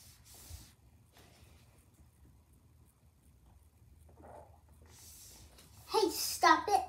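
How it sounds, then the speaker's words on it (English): Spray paint hisses in a Roblox video game in short, airy bursts with quiet gaps between them, and a voice briefly rises over the last hiss near the end. "Spray paint."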